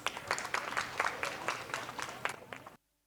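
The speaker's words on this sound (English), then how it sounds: "with your warm applause, let us welcome the performers" Audience applause greets dance performers at a school annual day celebration, a dense steady clapping from a crowd lasting nearly three seconds before cutting off abruptly into silence.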